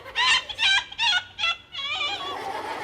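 A man imitates a chicken with his voice: four loud, rhythmic clucking bursts followed by a longer, drawn-out cluck, close and clear, with nothing else behind it.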